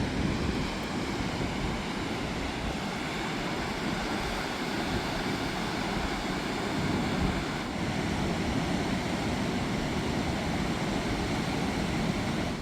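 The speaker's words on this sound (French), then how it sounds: "Incroyable, avec la puissance des vagues là-bas au fond." Ocean waves break at a distance off a northern coastal point, a continuous broadband surf roar mixed with wind buffeting the microphone, steady throughout with no voices.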